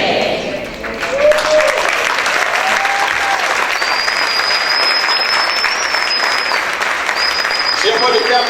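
Strong, steady applause from a church congregation during a sermon, dense clapping with crowd noise and a few whistles, continuing throughout.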